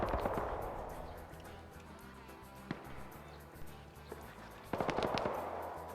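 Distant armored vehicles firing in a war video game, a steady rumble of rapid shots with a few sharper bursts standing out, faint and far away.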